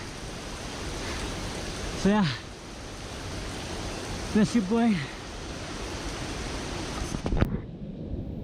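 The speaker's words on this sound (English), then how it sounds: "if you could see the water dripping from above this huge stone, that is the trekking trail" Water rushes and drips on a monsoon trekking trail in Nepal beneath a huge stone, a steady broadband hiss of flowing water throughout, with someone speaking briefly over it.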